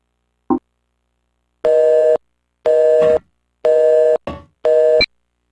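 Repeated busy-signal tones from a phone line in the video game Silent Hill Shattered Memories after a call is cut off: four loud, steady beeps of equal length with even gaps, a short click beforehand and a brief blip between the last two.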